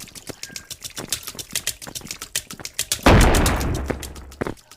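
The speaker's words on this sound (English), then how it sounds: "Does he just explode instantly?" A bomb blows up in the VR game Animal Company: a sudden loud blast with a long rumbling tail, cutting in after a string of sharp rapid clicks and taps.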